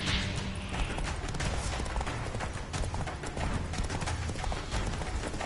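Galloping hooves of the horse Roach in The Witcher 3, a loud, dense, rapid pounding rhythm that stays steady and close for the whole stretch, with no talk over it.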